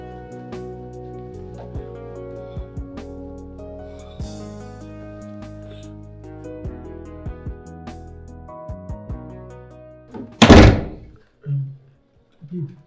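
A door in a building hallway thuds shut with a heavy knock-like thump, followed by a couple of softer bumps, after a stretch of background music.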